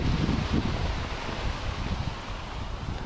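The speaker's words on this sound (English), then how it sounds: "Wow, that breeze is strong." Strong breeze gusting beside a river buffets the microphone with a loud, steady roar and low rumble, a bit heavier at the start and easing slightly.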